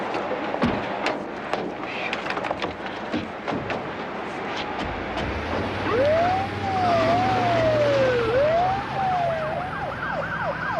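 Police car siren wailing from mid-distance, rising and falling amid busy street noise with scattered clatter and thuds, a vehicle rumble underneath.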